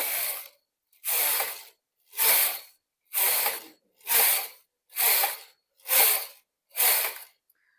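A Brother Electroknit KH-930E knitting machine carriage sweeps back and forth in eight even, rasping passes about a second apart, each a dense whooshing scrape followed by a brief silence, close and clear with no talk.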